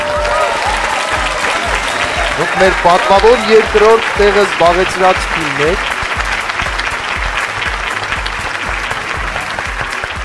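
Loud, sustained audience applause for the second-place team at a televised awards moment, with a presenter speaking over the steady clapping throughout.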